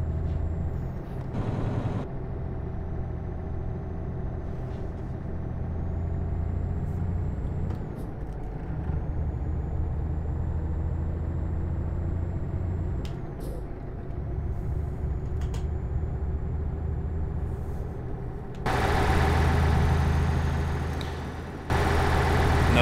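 Truck engine in Euro Truck Simulator 2, with bottom-mounted exhaust stacks, droning and idling steadily throughout, with occasional sharp hisses of air brakes and a louder rumbling swell near the end; no talking.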